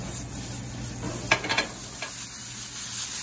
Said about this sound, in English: And we'll saute these for a couple minutes together.